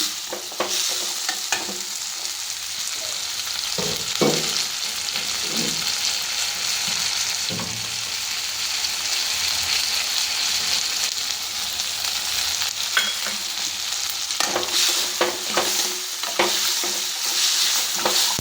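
Ginger garlic paste fries in a pan, sizzling continuously while a utensil stirs and scrapes it in irregular clattering strokes, close and loud with no voices.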